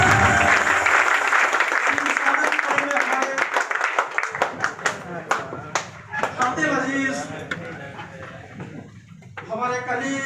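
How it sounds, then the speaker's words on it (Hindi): Loud applause from a standing seminar audience, dense at first and then thinning into scattered claps, with someone talking over it. "मैं चाहूंगा आप सब अपनी जगह खड़े होकर दोनों होकर एक बार जोरदार ताली से"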